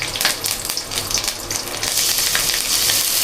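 Curry leaves and moong dal crackle and hiss in hot frying oil for Mumbai-style vada pav, a loud close sizzle that swells steadily stronger.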